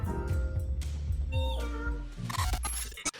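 A cat's meows play back from a recording, a few short, wavering cries in a row, fairly faint and close, followed by a brief clink near the end.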